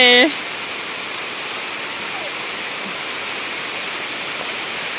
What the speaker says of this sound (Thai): และแล้วฝนก็เทลงมาค่ะ